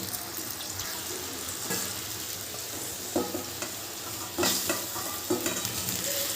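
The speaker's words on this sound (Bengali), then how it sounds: "মাটন স্টকটা দিয়েও ভালো করে মিশিয়ে নিলাম" A mutton biryani mixture with mutton stock and fried potato pieces is stirred in a pot over a steady wet simmering hiss, with a few sharper scraping knocks near the end.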